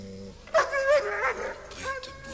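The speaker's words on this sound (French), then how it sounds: "Et ces 2 chiens." Two dogs bark and yip loudly in a short, agitated burst, with a whimpering edge between barks, close to the listener.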